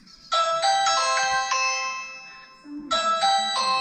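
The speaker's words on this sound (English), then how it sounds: "they're going to ring the doorbell." A wired video doorbell plays a bright melodic electronic chime, pauses briefly, then starts repeating, clear and close.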